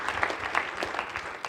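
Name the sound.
audience applause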